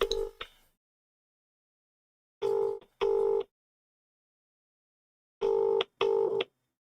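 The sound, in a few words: telephone number being dialed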